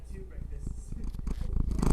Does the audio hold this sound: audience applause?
no